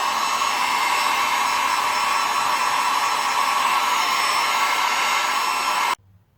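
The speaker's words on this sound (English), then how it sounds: "this hairdryer has a cool function, which is what I'll be using to just speed up the drying process" A hairdryer on its cool setting blows over a washed green cotton K&N-style air filter, a loud, steady whoosh lasting about six seconds before it cuts off abruptly.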